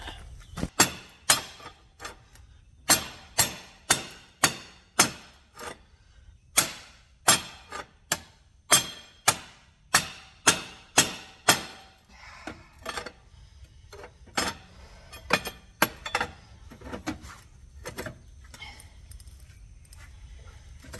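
A rapid series of sharp metallic hammer strikes unblocking a slag hole, evenly spaced at first, then more irregular and slightly softer, ringing close by.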